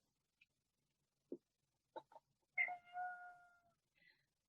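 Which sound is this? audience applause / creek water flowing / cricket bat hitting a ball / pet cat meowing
pet cat meowing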